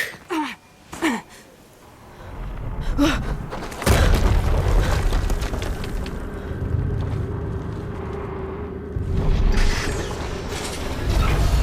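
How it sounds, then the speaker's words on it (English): An ancient weapon platform's turret in the Horizon Zero Dawn game grinds and creaks as it rotates, then a heavy boom fires and a sustained mechanical rumble follows, loud and close after a few short bursts of voice. "Rotate turret! And fire!"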